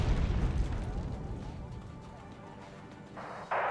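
Bombs exploding in the video game Wargame: Red Dragon, a heavy low rumbling blast that swells at the start and slowly decays into a lingering roar, with voices faintly present.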